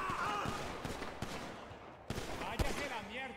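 Guards firing in a gang warehouse shootout in a multiplayer video game, a burst of sharp gunshots and rattling fire mixed under excited talking voices.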